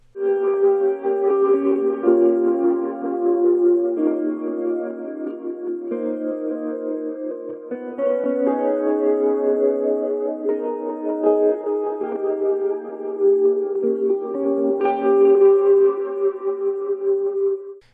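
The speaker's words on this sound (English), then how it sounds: "I low passed a ton of the high end, I put a ring modulator on it, and some kind of Mutron-esque effect" Guitar with its high end heavily low-passed, a ring modulator and a Mutron-style filter effect gives a muffled, warbling melodic line of notes at moderate level, playing alone without voices.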